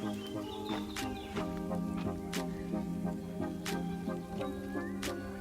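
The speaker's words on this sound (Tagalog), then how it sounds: "Ang ingay ng mga ibon." Birds chirp and call repeatedly at a quiet beach campsite on Vancouver Island, with several bright, sharp calls rising over a steady tonal background hum, moderately close and without talk.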